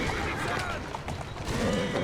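A horse neighing in the video game Assassin's Creed Syndicate, a short whinny amid hoof clatter and street noise, with someone talking over it.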